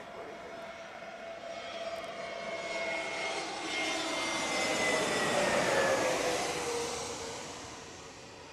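Jet airliner arriving at Chicago O'Hare during a storm, a steady broadband roar that swells from a distance to a peak and then fades as it passes, heard alone with no talk.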